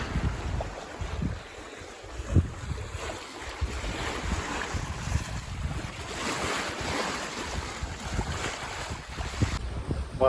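A Grand Soleil 45 yacht under sail at sea, with steady wind rushing across the microphone and water washing along the hull, a continuous broadband roar that stays fairly even with occasional gusts.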